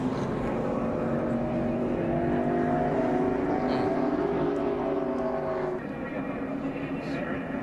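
Stock cars roar around a racetrack during a late-race wreck, engines droning in layered, sliding tones under continuous excited commentary.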